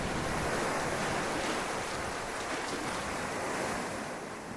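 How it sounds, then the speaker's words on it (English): Heavy, steady water roar in The Last Guardian video game after a big splash, a broad rushing wash like surf that stays loud and continuous throughout with no voices. "Big splash."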